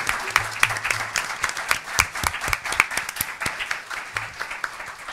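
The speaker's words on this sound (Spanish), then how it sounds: "les pido para ellas un muy buen aplauso" An audience claps for the guest speakers at a literary conversation event. The applause is a close, lively burst of many hands, loud at first and thinning out gradually, with no voices over it.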